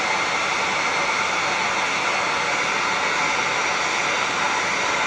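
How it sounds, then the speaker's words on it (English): A heat gun runs steadily with a constant loud hiss of blown air as it is held on glue spots to melt them, with no pauses and no voices. "here's my trusty heat gun. And we're going to take it and put it on those glue spots."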